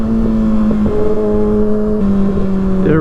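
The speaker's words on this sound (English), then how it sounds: "The rev matching sounds so good on this pipe too, especially when you're ripping on it." A Kawasaki ZX6R with an M4 GP19 exhaust revs loud and close, a sustained buzzing engine note that steps up and down in pitch through several shifts, with no voices.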